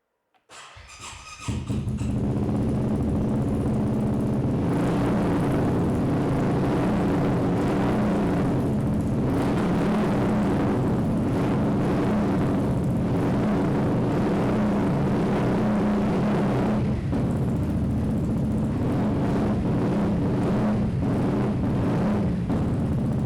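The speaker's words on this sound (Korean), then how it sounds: "순정 머플러가 아닌 튜닝 머플러의 배기 사운드 한번 들어보고요" A loud single-cylinder 2022 BMW C400X Sport scooter with an aftermarket tuned muffler drones steadily close by, with a throaty, rumbling exhaust tone that swells and dips slightly as the engine revs.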